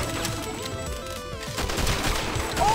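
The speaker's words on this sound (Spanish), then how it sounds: "¡Qué bien que dispara esta tía!" Rapid gunfire in the video game Not a Hero, with dense overlapping bursts of shots in quick succession, loud and continuous, layered over game music.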